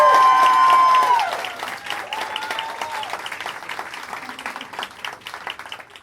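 A crowd at a rap battle event cheers and applauds loudly for about a second, then the clapping thins into scattered, fading applause with a few shouts.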